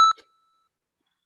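A short electronic beep from the R beepr package sounds once, bright and clipped in a fraction of a second, followed by silence.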